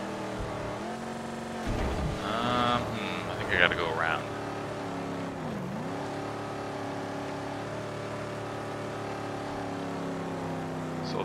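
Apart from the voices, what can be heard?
car engine revving in Mad Max video game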